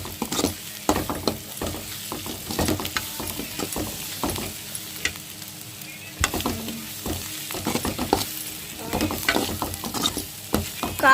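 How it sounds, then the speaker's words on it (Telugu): Egg puff filling of onion, coriander, cumin and coriander powder frying in oil in a pan while being stirred, with repeated scraping strokes of a spoon over a soft steady sizzle, close and clear with no talking. "కొత్తిమీరను జీరా ధనియాల పొడి వేసుకొని తిప్పుకుందాం"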